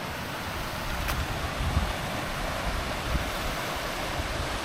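A river running high after heavy rain makes a steady broadband rush that holds loud and even throughout, with wind buffeting the microphone.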